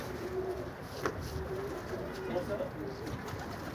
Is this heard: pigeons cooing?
yes